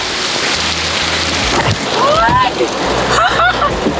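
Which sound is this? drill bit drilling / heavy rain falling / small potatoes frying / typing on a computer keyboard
heavy rain falling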